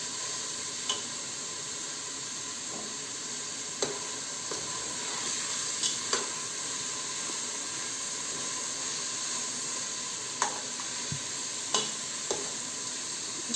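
Chicken pieces frying in a pan for Moroccan harira soup, a steady sizzle and hiss broken by scattered clinks of stirring against the pan.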